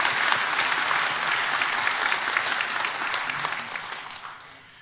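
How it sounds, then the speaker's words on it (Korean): A church congregation breaks into sustained applause during a worship service at Sejong Songdam Church, loud dense clapping filling the room throughout before tapering slightly at the end. "우리가 시간 하나님께 영광의 박수 올려드리겠습니다."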